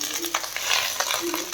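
Hilsa fish fries in oil in a wok, giving a close, moderate crackling sizzle with soft scrapes and stirring clatter as the pieces are turned.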